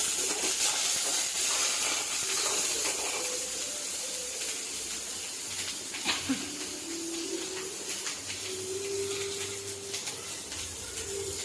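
Curry leaves sizzle in hot oil with onion and asafoetida while tempering for thavalai adai batter, a constant close hiss that stays even throughout.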